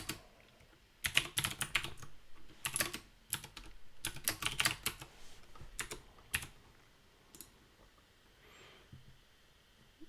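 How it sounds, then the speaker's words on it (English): Typing on a computer keyboard, close by, in irregular bursts of rapid clicking keystrokes separated by short pauses, with no talk. "I'm lazy and I'm just going to type this"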